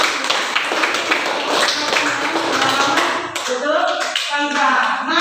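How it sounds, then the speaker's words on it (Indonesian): Classroom applause from a group of students, dense clapping filling the first few seconds, then thinning out as voices take over toward the end. "tepuk tangan untuk ini"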